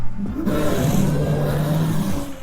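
Baragon kaiju in the Roblox game Kaiju Kewl lets out a loud, close, sustained roar with a throaty growling tone that rises and holds for about two seconds before cutting off.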